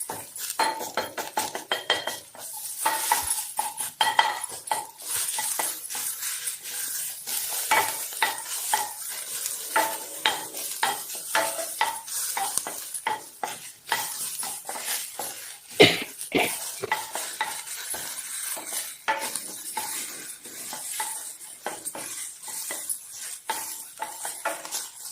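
Mixed vegetables for ragi adai being sautéed in a pan, soft sizzling under frequent close scrapes and clinks of a spatula stirring, continuous and moderately quiet with no voices.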